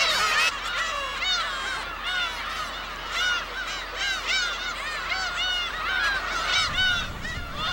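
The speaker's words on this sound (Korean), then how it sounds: "섬을 가득 메운 괭이갈매기들의 울음소리." Dense chorus of black-tailed gulls crowding a rocky island in the East Sea, many overlapping nasal, honking cries at once, loud and continuous throughout with no voices.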